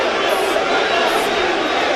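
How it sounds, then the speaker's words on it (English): A displeased crowd at a boxing event in an arena, a dense, steady roar of many voices at close range, with commentators talking over it. "Well, the crowd aren't happy."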